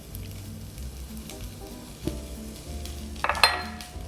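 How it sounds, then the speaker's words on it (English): Green beans sizzle and fry steadily in a pan with ginger for a peanut dish, with a few utensil clinks and a brief stir near the end; close and moderately loud, with no talking. "And you hear those beans cooking over there?"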